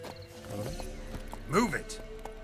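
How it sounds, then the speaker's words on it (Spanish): Horse hooves clip-clop in The Witcher 3 game, with a brief whinny-like swell midway, all under steady talk from a voice. "Mi caballo."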